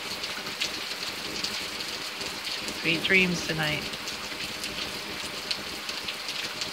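Night rain in South Carolina falls as a steady, even hiss of drops on surfaces, continuous throughout, while someone speaks briefly over it.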